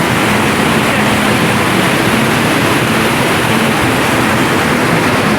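A waterfall roars with a steady, broadband rush along a mountain trek toward Chitta Katha Lake. The dense hiss stays loud and unbroken throughout, with no voices.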